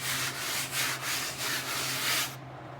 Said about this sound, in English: why do you bother sanding the back down?